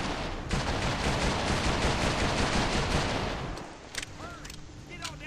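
Sustained automatic gunfire from a video game, loud and continuous for several seconds, then thinning out into scattered shots with ricochet-like chirps and pings.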